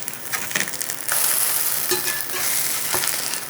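Food sizzles loudly in a Signature cast iron pan on an induction cooktop, a dense continuous crackling hiss that swells after a brief shuffle, heard alone and close.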